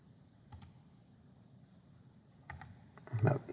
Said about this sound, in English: I'm having trouble using this keyboard here.